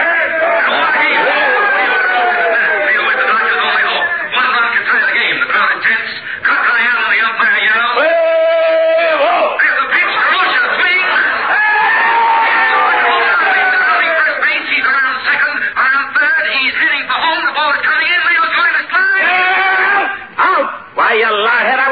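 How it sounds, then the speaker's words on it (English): A roaring baseball crowd, staged as a sound effect in a 1946 radio comedy broadcast, swells and wails in a narrow, old-broadcast tone throughout, with voices talking over the noise. "The crowd is going crazy."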